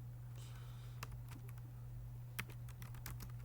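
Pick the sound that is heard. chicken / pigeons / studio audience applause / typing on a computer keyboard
typing on a computer keyboard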